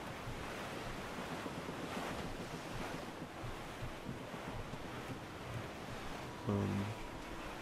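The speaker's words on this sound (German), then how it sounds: "Es weht ein steifer Wind." Steady wind and rolling sea waves on open water while sailing in Assassin's Creed Black Flag, a continuous broadband rush with a brief louder creak or thud near the end.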